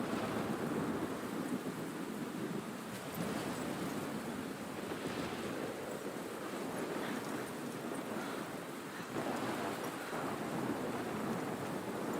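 Steady rain pours with a low thunderstorm rumble and gusting wind in the video game Life is Strange, a dense continuous hiss without pauses.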